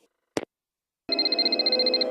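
A telephone rings in the Nancy Drew mystery game: a short click, a brief pause, then a steady electronic trill with rapid pulsing that stays loud and close.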